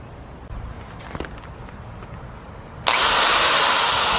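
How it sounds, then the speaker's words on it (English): A corded power drill kicks on abruptly near the end and keeps whirring steadily and loudly, after a few scattered clicks and knocks over quiet background. "let's run some extension cords, you know, get some power for the drill"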